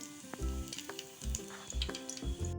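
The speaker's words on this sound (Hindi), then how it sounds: "पनीर को हम क्रंची होने तक फ्राई करेंगे।" Paneer cubes frying in hot oil until crunchy, a steady crackling sizzle with bursts of bubbling and faint stirring clinks, close and moderately loud with no voices.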